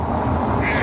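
Ducks quack beside a river near an old castle, a short burst of close, steady calls over a continuous outdoor background.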